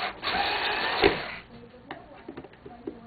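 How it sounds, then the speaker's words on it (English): An electric screwdriver driving a screw into a vacuum pump check valve: a loud whirring drive for about a second and a half, ending in a sharp jolt, followed by faint clicks and small taps as the tool is handled. "You see why I don't like to use electric screwdrivers."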